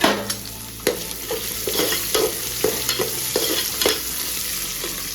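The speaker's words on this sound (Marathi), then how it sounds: "आणि ह्या भाज्या आपल्याला प्रॉपर परतून घ्यायच्या आहेत।" Mixed vegetables stir-fry in a pot with browned onion, a soft steady sizzle under repeated sharp scraping knocks of a spoon against the metal, heard close with no speech.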